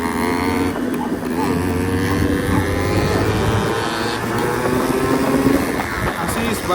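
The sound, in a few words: Yamaha RX two-stroke motorcycle engine revving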